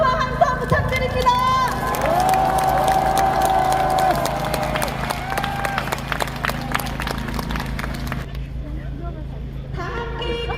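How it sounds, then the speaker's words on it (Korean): Crowd applauding and cheering at an outdoor rally in front of the Constitutional Court near Anguk Station, scattered clapping and shouts mixed with a voice on a loudspeaker, then the noise briefly drops before picking up again. "큰 박수와 함성 부탁드립니다."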